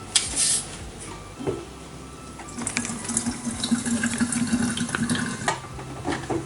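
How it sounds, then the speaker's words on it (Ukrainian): Carbonated water pours into a container of raspberry lemonade, a steady liquid stream filling for several seconds, close and moderately loud with a faint fizz, no talking. "відкриємо цю кришечку і дольємо вже сюди гасовану воду."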